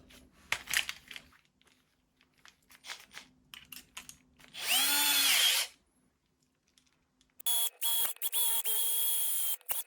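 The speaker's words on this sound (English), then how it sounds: "Drilling holes into the new end cap" Power drill boring holes into a resin-filled ROV end cap, in several short bursts with handling noises in between, then a louder sustained whine near the end, close and clear.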